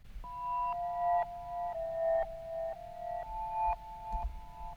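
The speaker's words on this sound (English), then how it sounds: "So that's just my delay channel," Synth melody notes in FL Studio with delay echoes repeating each note, unfiltered and bright, steady stepping pattern of sustained tones over low hum, no voices.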